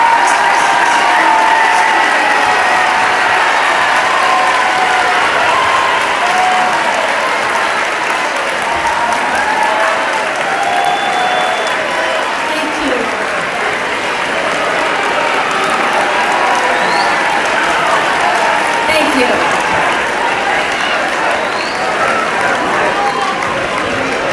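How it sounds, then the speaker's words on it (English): A large school assembly crowd applauds the teachers and staff, a long steady roar of clapping, loud and sustained with some crowd noise mixed in. "that applause was probably appreciated"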